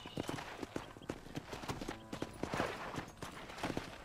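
Horse hooves clip-clop steadily in the Western video game Red Dead Redemption, a quick run of close, sharp hoofbeats with faint background ambience.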